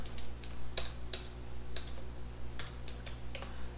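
Typing on a computer keyboard while writing code, with scattered, fairly faint key clicks at an irregular rhythm over a steady low hum.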